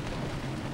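Steady rain falls outdoors near restrooms and a parking area in Hawaii, a dense continuous wash with low rumbling underneath that suggests distant thunder, loud and unbroken with no voices.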